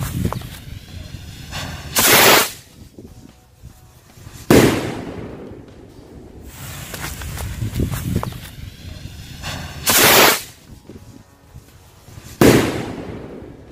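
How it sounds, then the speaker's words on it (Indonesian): Jumbo rocket firecrackers lit and launched outdoors: four loud sharp bursts spaced a few seconds apart, each a sudden fizzing whoosh and bang, with softer crackling and rustling in between. "Selanjutnya kita nyalakan mercon luncur yang jumbo."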